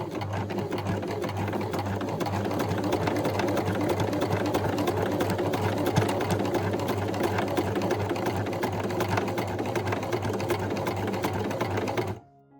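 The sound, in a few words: sewing machine sewing straight stitch on men's shorts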